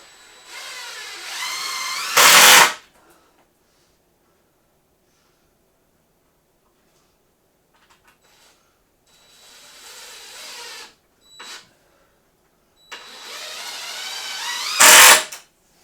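Power drill driving 3-inch screws up through 2x6s into wooden seat-frame legs, two loud whirring bursts separated by a long quiet stretch and a few short knocks, close by.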